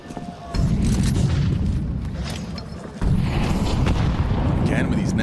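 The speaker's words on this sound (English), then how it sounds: "Again with these nades, they are chunking them." In a professional Counter-Strike 2 playoff match at PGL Cluj-Napoca, two grenades go off as heavy booms, each followed by a long low rumble, while a commentator talks excitedly over them.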